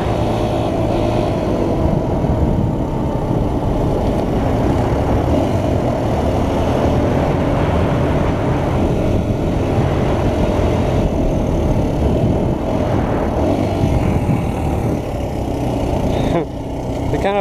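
A new dirt bike's engine drones and labors while riding on trails, a loud, continuous engine sound with uneven surges as it bogs, ending with a brief dip and change near the end.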